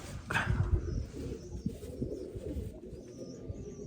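A domestic pigeon just landed at its loft gives low, throaty coos, close by and fairly soft, with a few faint chirps and light rustling around it.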